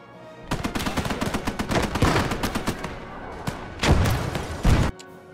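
In a World War II-style war video game, a 7.5 cm artillery piece fires amid rapid gunfire. Dense volleys of loud shots come in bursts, with heavier booming blasts near the end.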